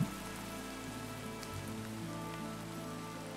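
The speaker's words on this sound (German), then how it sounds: "Ich höre Regen." Steady rain in the game Minecraft, a continuous hiss of drops on surfaces throughout, even and moderately loud with no talk.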